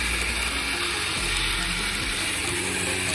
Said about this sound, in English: Water's being pushed out.